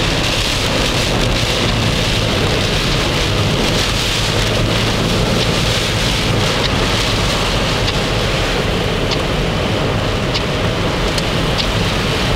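Heavy rain pours steadily in a Reykjavik storm, a loud dense hiss with gusting wind and faint rumbles throughout, close and unbroken.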